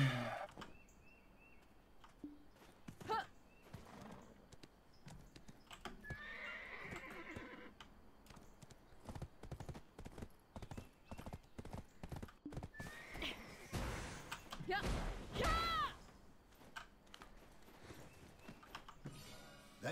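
Rhythmic clip-clop of horse hooves with several whinnies and neighs, fairly close, in a scene from the video game Black Desert, without talking.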